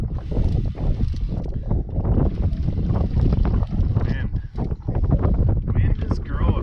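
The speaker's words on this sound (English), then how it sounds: "Wind is gross. I don't remember the last time it wasn't windy." Strong wind buffets the microphone in loud, continuous roaring gusts, with a voice talking briefly over it outdoors by shallow water while fishing.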